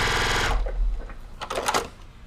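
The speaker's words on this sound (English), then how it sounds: "I'll just finish stitching." Sewing machine stitching a quilt block, a fast steady mechanical whir running loud for about half a second before fading into softer clicks and handling noises.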